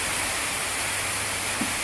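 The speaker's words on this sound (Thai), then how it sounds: "ฝนตก" Steady rain falls outdoors in an orchard of jujube trees being pruned, a dense even hiss that fills the whole clip without break, fairly loud and close, with no voices over it.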